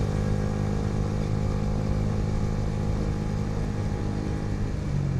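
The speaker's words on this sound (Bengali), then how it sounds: "বাইকে অনেক সাউন্ড হইতেছে," A motorcycle with a faulty, noisy exhaust runs steadily nearby, a constant rough engine drone with dense low rumble and no pauses or talk.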